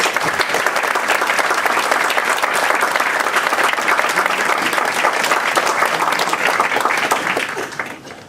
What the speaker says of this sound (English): I'd like to have a round of applause for our panel.